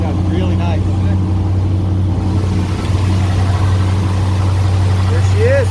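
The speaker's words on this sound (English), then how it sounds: "that exhaust sounds really nice, doesn't it?" Steady, loud rumble of a 1992 Chevrolet 454 SS pickup's big-block V8 idling up close through its exhaust, with people talking over it.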